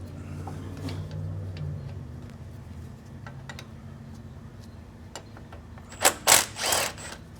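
A ratchet clicks in quick ticks as it loosens the two brake caliper bolts on a vehicle's rear end. Louder rattling bursts follow near the end, all close-up in a quiet workshop.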